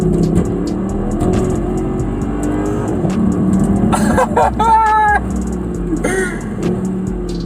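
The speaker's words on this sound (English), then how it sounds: "You can have a bit of V8 noise before you go." A Mercedes C63 AMG W204 V8 idles with a deep rumble, then revs sharply several times in quick bursts, loud and close, settling back to idle between blips.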